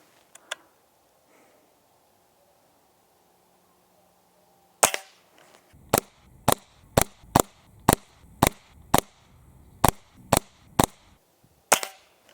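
A Hatsan Model 25 Supercharger .177 air pistol fires outdoors, about a dozen sharp, dry cracks at an irregular pace of roughly one per second, close and loud against near silence, after a few faint handling clicks.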